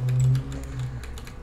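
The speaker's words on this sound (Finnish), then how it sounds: "Muuten varmaan kuuluu tää mun näppäimistökin tässä" Computer keyboard typing during a Star Stable Online session, a short burst of a few soft, close key clicks over a low background hum.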